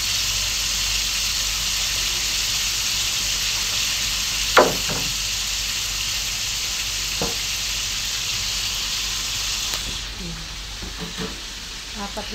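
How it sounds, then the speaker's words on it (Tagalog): Eggplant frying in a pan, with chili and garlic added, gives a steady sizzle and hiss throughout. A few brief clatters of stirring cut in, and it grows busier and more broken near the end. "magprito tayo ng talong para yun ang tama natin sa kanin"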